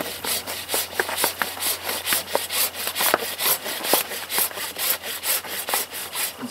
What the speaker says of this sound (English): And so I have no problem cutting wood out.